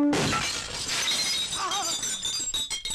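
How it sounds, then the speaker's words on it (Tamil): A pane of glass smashes and shatters loudly in a comic scene, a sharp crash followed by a long tinkling spray of falling shards that gradually thins out. "வாசப்படி நினைச்சு கண்ணாடி நொறுக்கி தள்ளிட்டாங்களே"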